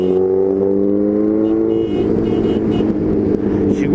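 A Suzuki B-King motorcycle engine pulls hard under acceleration, its steady droning tone climbing and then shifting into a rougher, louder roar partway through, close and continuous with no talking.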